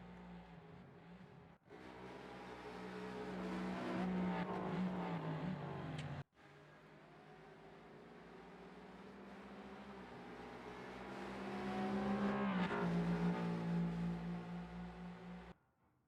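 Hypercars and GT3 race cars lapping Road Atlanta in Rennsport, a steady engine drone rising in pitch through two long acceleration runs, with a sudden cut between them and a passing swell near the end.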